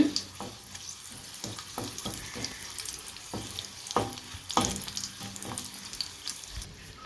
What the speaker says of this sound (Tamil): இப்போ எண்ணெய் சூடாகிட்டு அப்படி ரெண்டு வத்தலை இப்படி பிச்சு வச்சுருக்கேன் இதை இதில் சேர்த்துக்கலாம் நல்லா வதக்கி விட்டுப்போம்